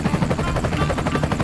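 A helicopter close by, loud rhythmic rotor chopping in a rapid, steady pulse throughout, with no voices over it.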